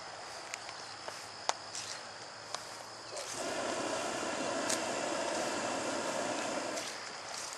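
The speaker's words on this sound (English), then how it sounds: "There's a hot air balloon!" A hot air balloon drifting low overhead outdoors, its burner giving a steady broad roar that starts abruptly partway through and holds, after a quieter stretch of faint outdoor ambience with crickets and small clicks.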